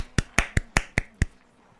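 A few scattered golf claps, six sharp separate hand claps at an uneven, slightly hesitant rhythm, close and fairly loud against a quiet background, from a small audience after a sermon.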